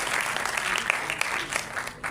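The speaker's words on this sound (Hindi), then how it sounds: "एक बार जोरदार तालियों से" Audience applause greets a contestant at a state-level Sanskrit song competition for children, a steady burst of clapping from a crowd lasting about two seconds before cutting off.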